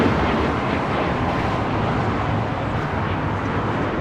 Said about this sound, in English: is United Airlines 1621 taking off to Orlando on a MAX 9